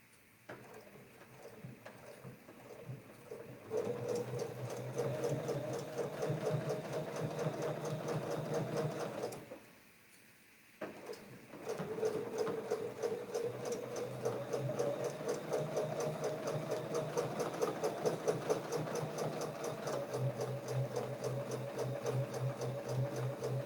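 A sewing machine stitches around a maple leaf quilting template in fast, even rhythmic bursts, pausing briefly about midway before resuming steadily; no talking.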